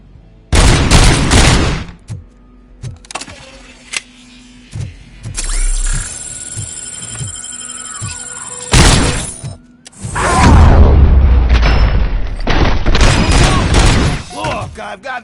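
Bursts of heavy automatic gunfire and crashing impacts in the RoboCop: Rogue City video game, loud and close, broken by quieter stretches with hum and a few thuds.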